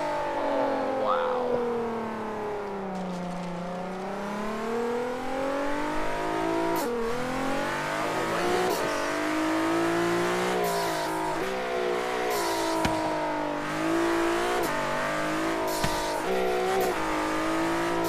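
A Bentley EXP 10 Speed 6 in Forza Horizon 3 revs and accelerates loudly, its engine pitch climbing and dropping through repeated gear shifts, with brief tire squeal along the way.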